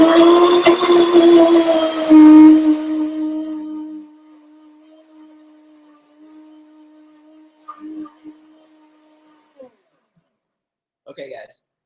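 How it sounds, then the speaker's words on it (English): Blender running on bananas and pili nuts with a loud, close, steady whir for about three seconds, then winding down and fading, followed by a few faint clicks and clatters. "Blend this up,"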